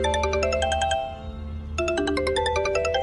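An electronic phone ringtone signals an incoming call, playing a bright repeating melodic pattern of chiming notes that stops briefly and then starts again, clear over a low background hum.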